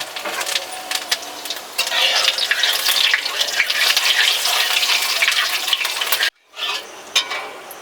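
Cumin seeds and onion frying in hot oil in a wok, a loud steady sizzle with spatula scrapes and stirring, briefly cut off near the end before the hiss returns.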